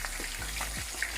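Fish fries in a pot of hot oil, a steady loud sizzle with brief splashy stirs as pieces are flipped over, no voices.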